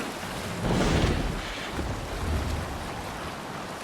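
A longship sails out on open sea in Assassin's Creed Valhalla, with steady rushing waves and wind swelling loudly in a broad surge, then settling into a continuous wash of water.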